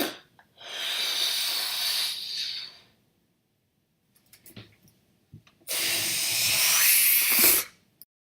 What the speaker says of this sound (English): we are gonna make a funny noise with this balloon